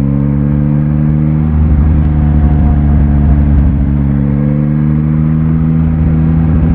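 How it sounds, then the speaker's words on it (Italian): A 2021 Yamaha MT-09 SP three-cylinder motorcycle pulls with a loud, steady engine drone and a slight rise in pitch under acceleration, overlaid by continuous wind rush and with no talking. "Mi piace il sound della moto, un po' tipo rude, classico sound del 3 cilindri."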